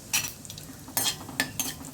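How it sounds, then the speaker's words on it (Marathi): Cumin and mustard seeds splutter in hot oil for a Maharashtrian tadka, giving quiet scattered crackles and brief sizzling bursts with no talking. "जिरं मोहरी चांगलं तडतडू द्या."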